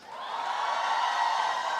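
Graduates and postgraduates at a dental sciences graduation ceremony shout and cheer together, a loud swelling crowd roar that holds steady for a couple of seconds.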